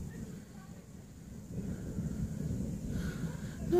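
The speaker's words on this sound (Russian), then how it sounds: "Гром." Distant thunder from an approaching storm rolls as a low, muffled rumble that swells partway through, blended with steady wind noise on the microphone.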